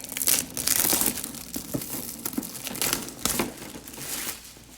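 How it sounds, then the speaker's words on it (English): Plastic wrap is torn and crumpled off a board game core box, giving steady loud crinkling and crackling with a few sharper rips, close up and with no talking. "So goodbye, Mr. Plastic Wrap."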